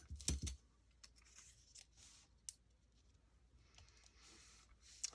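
Scissors cut paper for an art journal in a quiet room: a sharp snip at the start, then faint rustling and light clicks, with another crisp cut at the end.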